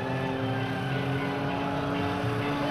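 Propeller aerobatic airplane performing rolls and outside maneuvers at a 2002 Navy air station airshow, a steady loud engine drone held without break throughout, no voices.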